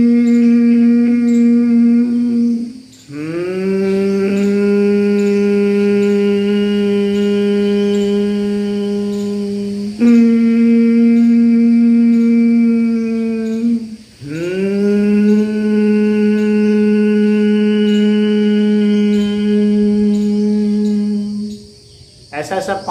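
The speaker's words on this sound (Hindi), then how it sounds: "जैसे भ्रामरी में गुनगुनाते हैं इस तरह से गुनगुनाएंगे" A close, loud voice hums steadily during combined Ujjayi-Bhramari pranayama breathing for snoring relief. Two long, sustained hums are split by a brief breath, then a third begins.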